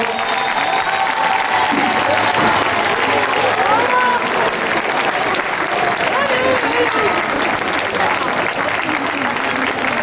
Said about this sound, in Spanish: Recibimos a la Escuela Artística de Mogán, de las Islas Canarias. Un fuerte aplauso.